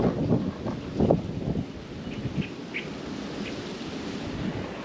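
Steady wind rushes and buffets against the microphone outdoors in the mountains near Pililla Windmill Farm in Rizal, with low rumbling gusts throughout and no voices.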